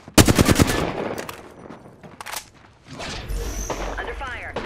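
Rapid video game gunfire opens with a loud burst of close automatic shots, then scattered, fainter shots follow under voice lines.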